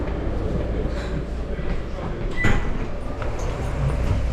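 Vienna metro train riding near Stephansplatz, a steady loud rumble and rolling drone inside the carriage, with a brief screech partway through.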